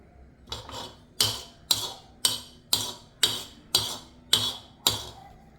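A spoon stirs beetroot in a pan on a gas stove, knocking against the pan in a steady run of about ten crisp, evenly spaced taps, close and fairly quiet with no talking.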